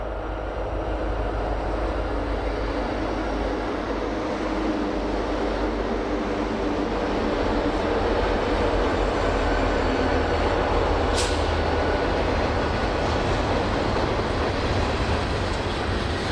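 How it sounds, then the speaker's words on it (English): Freight train on Union Pacific's Donner Pass in winter, led by SD70 locomotives with a trailing ex-Baltimore and Ohio GP40M-2, rolls past as a steady, loud, broadband rumble and rail roar that holds throughout without talk. "Trailing the SD-70s was a GP40M-2 built for the Baltimore and Ohio Railroad 55 years ago."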